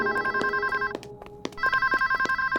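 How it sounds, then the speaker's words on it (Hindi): A telephone rings with a steady warbling electronic trill, pausing briefly midway before resuming, close and fairly loud. "संतु फोन देखो ना।"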